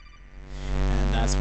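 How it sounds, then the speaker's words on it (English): A personal phone ringtone sounding during Atari ST gameplay, a sustained tonal chime that swells from soft to loud over little more than a second, with layered harmonic notes and no talking. "And that's my ringtone."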